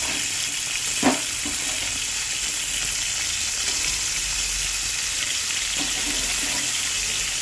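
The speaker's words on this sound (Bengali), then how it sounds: "তো মাছটাকে আমি ভালো করে লাল করে ভেজে তুলে নেব।" Rohu fish fries in hot oil, giving a steady, loud, continuous sizzle with a few faint clinks of a spatula.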